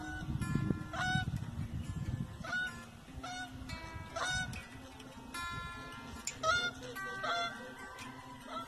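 A flock of geese honks repeatedly at close range on a homestead, their calls overlapping, while wingbeats flap in an early rush before the honking continues.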